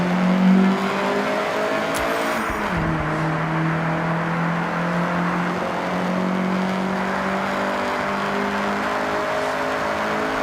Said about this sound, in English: get the CRX up to speed